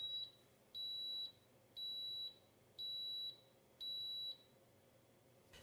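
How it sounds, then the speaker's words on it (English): Five steady high-pitched electronic beeps from a waffle maker signalling the waffle is ready, evenly spaced about a second apart, each lasting roughly half a second, clear against a quiet background hum. "it will actually beep 3 times to let us know that the waffle's ready to remove"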